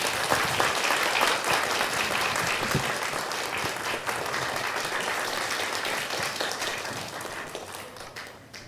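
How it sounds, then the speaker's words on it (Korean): A church congregation in Cheorwon gives sustained, dense applause to welcome a pastor, steady and full for several seconds before gradually tapering off. "우리 나오실 때 우리 큰 박수로 환영해 주시면 감사하겠습니다"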